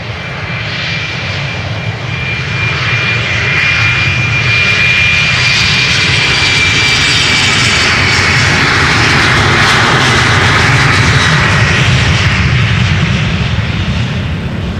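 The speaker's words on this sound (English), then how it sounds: "Embraer 190 on its way to London City up next." An Embraer 190 jet takes off from Schiphol's Polderbaan runway with a loud, close engine roar and a high whine, building and swelling steadily as the aircraft accelerates, with no voices over it.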